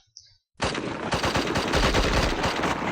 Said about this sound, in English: I can probably spin up my MG, probably kill a few more troops